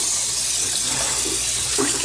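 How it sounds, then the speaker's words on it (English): Cold water runs steadily from a kitchen faucet over raw goat meat being rinsed, a constant close splashing hiss with no pauses. "all I'm gonna do is rinse it under cold water from my faucet"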